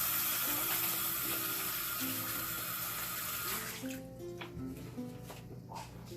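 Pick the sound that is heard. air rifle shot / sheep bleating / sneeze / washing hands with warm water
washing hands with warm water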